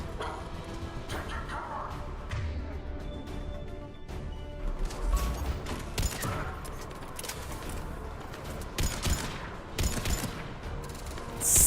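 Scattered video-game gunfire and impacts in Mass Effect, a combat scene with irregular sharp shots and crashes layered under continuous game noise and voices.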